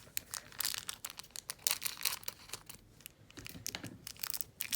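Plastic packaging around a Czech glass bead pendant crinkles and tears as it is opened, a close, busy run of crisp rustles and crackles with no talking.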